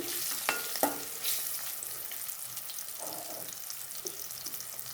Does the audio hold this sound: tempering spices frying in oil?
yes